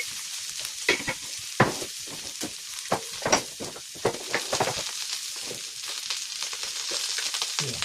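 Cumin seeds dropped into hot oil for pepper rasam, a crackling sizzle with sharp pops and scrapes of stirring at uneven intervals, fairly quiet and close, with no voices.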